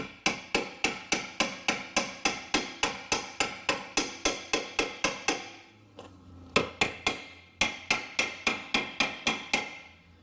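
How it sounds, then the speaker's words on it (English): Rapid, steady metallic taps from a small brass hammer fitting an Audi lower control arm, about three per second, then a brief pause and two more quick bursts of tapping, close and crisp. "grab my small brass hammer. You don't need anything big here, and you're just going to want to tap it in here"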